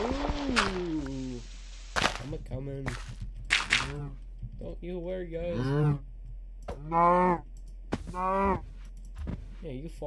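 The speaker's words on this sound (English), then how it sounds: "Here it comes, Mr. Moo Moo Cow." Minecraft cow mooing in several drawn-out, wavering calls, loud and close, with a player's voice talking over and between them.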